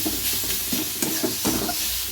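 Onion frying in a pan for lentil dal, a steady close sizzle with repeated scraping stirs roughly every half second, with no talking.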